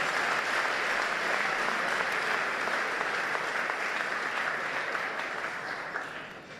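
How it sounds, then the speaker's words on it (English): Sustained audience applause fills the room at the Brighton & Hove Albion Players' Awards dinner, steady and dense throughout before easing off slightly at the end, with no talking over it. "Round of applause for Paul Barber, OB."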